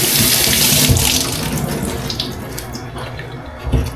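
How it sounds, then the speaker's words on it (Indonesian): Leaves are washed under a running tap, with a steady rush of water splashing over them that eases slightly toward the end, close by and with no voices. "Cucinya di air mengalir"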